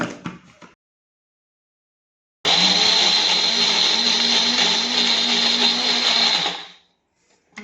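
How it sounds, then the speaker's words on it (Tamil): Mixer grinder blending half a coconut, three cardamom pods and water for coconut milk, starting abruptly into a loud steady whirring roar that lasts about four seconds before winding down, after a short burst at the start. "இதை ஊற்றி அரைச்சி நம்ம பால் எடுத்துக்கலாம்."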